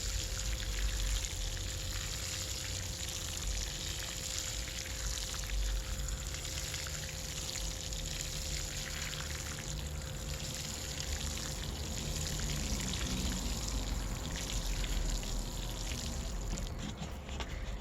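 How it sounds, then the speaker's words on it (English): Water pours steadily into the soil of a container-planted watermelon, a continuous soft hissing splash with no talking. "Let's give it a nice good watering. Just gonna soak that really good."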